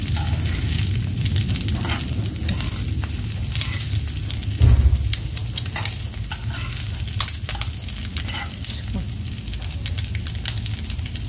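Egg rava fry sizzling steadily in a pan, a loud continuous crackle with scattered pops and a brief scrape of stirring partway through, no voices.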